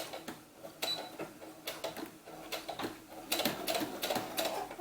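A sewing machine top-stitches a doll's sunsuit in short, rapid rattling runs, stopping and starting in uneven bursts at close range, fairly quiet, with no voices over it.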